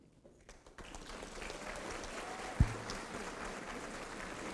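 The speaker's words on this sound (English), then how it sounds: "giving a warm round of applause for those loved ones who have joined us today." An audience at a master's hooding graduation ceremony breaks into applause that rises quickly and then holds as a broad, steady, fairly faint wash of clapping, with one sharp knock in the middle.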